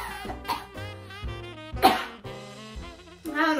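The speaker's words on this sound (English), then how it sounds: "Some spit traveled up my esophagus, and I start coughing." A woman coughs repeatedly in close, sharp bursts after choking on spit, with a few sputtering breaths between coughs.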